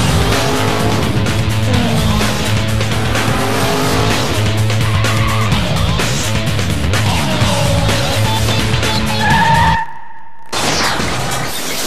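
Herbie the car with its engine running hard and tires skidding: a loud, revving motor with rising and falling pitch, squealing tires over it, and a sudden short cutout near the end before the noise resumes.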